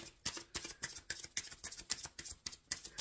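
Tarot cards are shuffled in quick, rhythmic riffles, a steady series of crisp, close slapping and flicking bursts about every quarter second, quiet and without talk.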